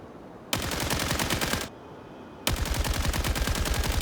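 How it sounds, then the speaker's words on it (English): Machine guns in Genshin Impact fire in two sustained, rapid bursts, loud and close, with a short pause between them. "Oh, it's the machine guns."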